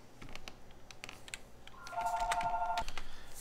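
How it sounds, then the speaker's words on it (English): A telephone gives one short electronic ring, a steady tone lasting about a second, faint in a quiet room. "the phone rang and I had to pause the video"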